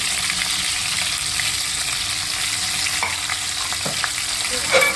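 Eggplant fries in hot oil with a loud, dense, steady sizzle, broken by a few faint scrapes and a clatter at the end.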